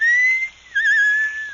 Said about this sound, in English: Hey, cut the whistling out.